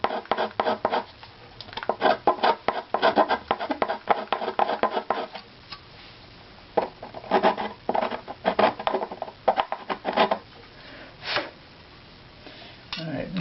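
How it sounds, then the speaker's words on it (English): A violin back plate being tuned is scraped by hand across one strip, giving bursts of dry, rasping scrapes in uneven rhythm with short pauses, close and moderately quiet. "Try to scrape the whole area evenly."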